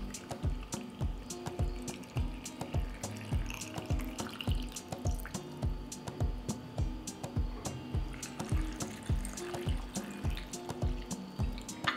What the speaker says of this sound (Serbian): Pa ću tegle napuniti sa vodom.